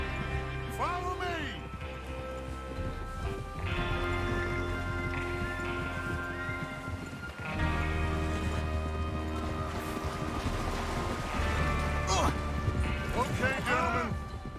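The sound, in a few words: horses galloping, from the video game Red Dead Redemption 2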